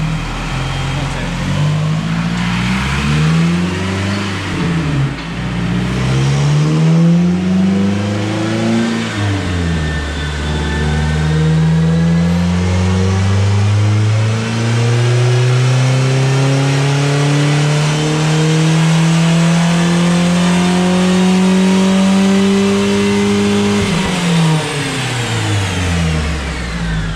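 A car engine on a dyno runs with an open air intake, revving up and down in repeated sweeps before a long, loud pull that climbs steadily, then drops back. The roar is close and dominant throughout.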